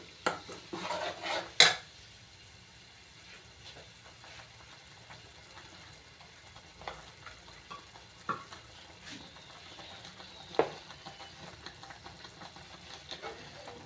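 A spoon stirs a matar paneer curry in a pan, giving faint scraping and occasional sharp metallic clinks over quiet background sizzle.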